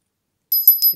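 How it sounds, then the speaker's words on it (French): A small bell rings after half a second of silence, four or five quick bright jingles close by, with no talk. "cette petite cloche."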